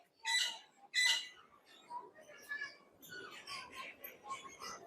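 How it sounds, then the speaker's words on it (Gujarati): An African grey parrot at a zoo in Rajkot gives two loud, harsh squawks close by, followed by softer mixed calls and chatter alongside faint background voices. "આ છે આફ્રિકન ગ્રે પોપટ"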